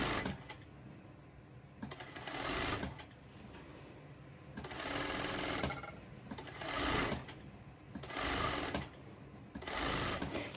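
Home sewing machine stitching a skirt hem with a zigzag stitch, running in steady whirring bursts of a second or two separated by short pauses, close and fairly quiet.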